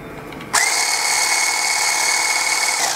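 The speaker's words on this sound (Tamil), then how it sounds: "அடுத்தது இந்த வெள்ளைக்கரு எடுத்து வச்சுருக்கோம் இல்லைங்களா, அதை நம்ம பீட் பண்ணி எடுத்துக்கணும்" An electric egg beater whipping egg whites for a sponge cake switches on abruptly and runs as a steady, loud, high whirring buzz, close up, with no talking.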